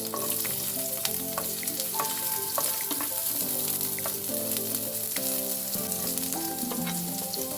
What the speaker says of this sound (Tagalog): mainit na yung ating mantika. Pwede na natin ilagay ang bawang. Then, sunod natin ang sibuyas.